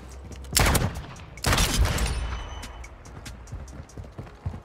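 Two loud, close pistol gunshots in an online shooter video game, each with a long reverberant tail, followed by lighter clattering game sounds and no talking.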